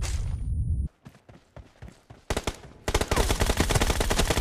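Gunfire in the mobile battle royale game PUBG Mobile: scattered single shots are followed by dense, rapid automatic bursts, loud and close, with a brief quieter gap between them.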